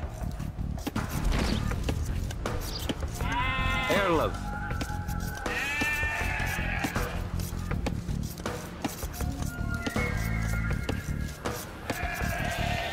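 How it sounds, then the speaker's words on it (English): Sheep bleating in the video game Age of Empires 2 Definitive Edition, several wavering bleats rising and falling over game sounds while a voice narrates throughout. "villagers can herd sheep or hunt deer for food"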